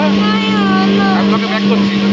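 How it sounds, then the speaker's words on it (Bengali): A speedboat engine hums steadily and loudly near Havelock in the Andaman Islands, with a constant droning tone and people talking over it. "এই আমাদের চলে এসছে স্পিড বোট, আমরা এবারে এটাতে উঠবো।"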